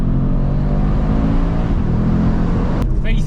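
An Audi RS3 8Y engine pulls hard under acceleration, a loud, dense, rising growl with strong low harmonics that fills the moment, then cuts off sharply with a brief click near the end.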